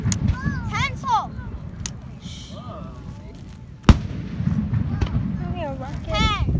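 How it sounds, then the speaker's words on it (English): Fireworks at a Fourth of July display in Japan crackle and whistle overhead, with a sharp loud bang near the middle, while people nearby talk and exclaim throughout. "Yeah, fireworks."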